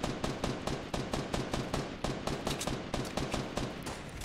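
Rapid bursts of Fortnite gunfire, loud and close, firing in quick repeated volleys nearly nonstop with short gaps between strings of shots.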